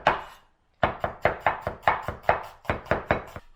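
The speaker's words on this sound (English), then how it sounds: "Now we're gonna prepare the onion. We're gonna cut it into slices." Steady knife strokes slice through an onion on a cutting board for thin slices, a quick rhythmic series of crisp chops after a brief pause, close and clear with no talking.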